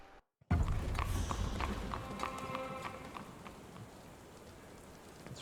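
Rain pattering in the game Sherlock Holmes: The Awakened, beginning abruptly after a short silence with a low rumble and steady hiss, alongside sharp clopping hoof-like knocks that fade into a quieter continuous shower.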